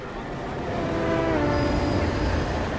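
A train rumbles through a station in Hitman: Absolution, a loud, continuous rolling roar with a faint metallic wheel squeal building toward the end, no talking over it.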